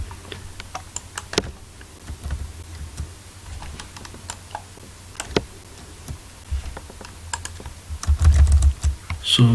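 Code being typed into an Excel worksheet on a computer keyboard: rapid, uneven keystrokes clicking close and clear, with a few heavier taps and a low thump near the end, no voices.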